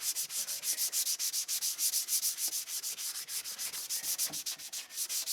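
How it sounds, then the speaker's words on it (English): Cleaner being rubbed by hand onto a rough, weathered vehicle headlight: quick, steady back-and-forth scrubbing strokes, close and fairly quiet, repeating rhythmically without pause and with no talking. "Rub it in, make sure it's wet."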